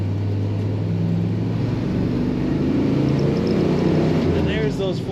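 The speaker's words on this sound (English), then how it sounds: "there's those 4 barrels opening up for a great sound on the highway" A 1963 Chevrolet Impala SS hardtop with a 409 four-barrel engine cruises on the highway, its steady engine drone rising as it accelerates, with road and wind noise throughout.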